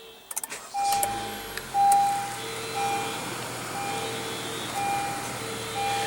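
A 2015 Honda CR-V Touring with a 2.4-liter four-cylinder engine starts with a push-button start and settles into a quiet, steady idle, with a few clicks and intermittent chimes from inside the cabin.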